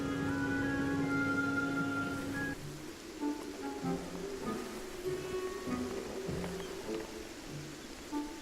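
Steady rain falls in the game Beyond Eyes on a beach, a continuous hiss with soft drops and faint tonal game sounds layered on top, no talking.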